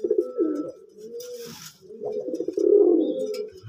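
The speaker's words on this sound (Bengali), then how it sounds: "নর যখন ডাকে তখন একবার নর পাগল হয়ে যায়" Male pigeon in a loft cooing close by, several deep rolling coos in a row with a short breathy pause between them.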